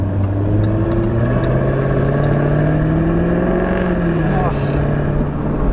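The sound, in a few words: 2018 Jaguar F-Type R Convertible engine revving while driving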